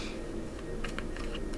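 Tarot cards are shuffled close by in soft, quick riffling clicks over a steady low background hum, faint and continuous with no talk.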